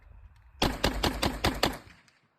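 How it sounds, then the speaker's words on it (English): An AK-47 rifle fires a rapid burst of about seven sharp, loud shots at a shooting range, evenly spaced cracks that stop abruptly and fade into quiet. "But the AK, the sound is brilliant."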